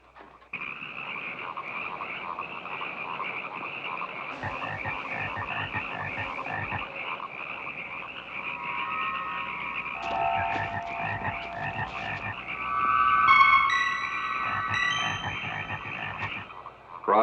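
A dense chorus of frogs croaking continuously, many overlapping calls that swell louder toward the end, with no talking.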